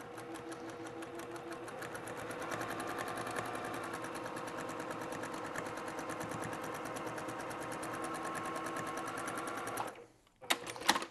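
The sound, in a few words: sewing machine top stitching quilt fabric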